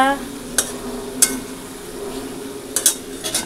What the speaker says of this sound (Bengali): এখানে হচ্ছে মিষ্টি কুমড়ো ভাজা